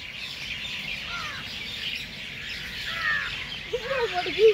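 Bird chirps and short whistled calls in a garden at night, faint at first and growing louder and more frequent near the end, over a steady hiss of insects or night ambience.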